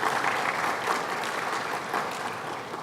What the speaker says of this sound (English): Let's give him a round of applause, Mr. Bill Rudin.